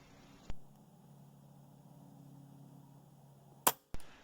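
An Air Arms S510 XS Ultimate Sporter .22 air rifle firing a JSB 15.89 grain pellet at 50 yards: a sharp crack at the start, then a quiet hum and two more sharp cracks near the end.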